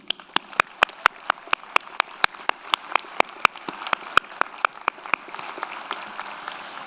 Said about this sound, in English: I would like to take this moment to give them a round of applause to show our appreciation.